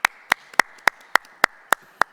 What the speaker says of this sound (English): One more round of applause for you all.